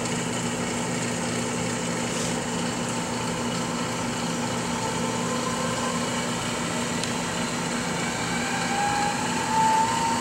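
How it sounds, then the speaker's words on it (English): A Brewer Science CEE 100 spin coater chuck spinning up toward 550 rpm, a steady close electric motor hum with tonal whine and a faint rising pitch near the end, no talking. "the chuck is accelerating to a target rotation speed of 550 rotations per minute"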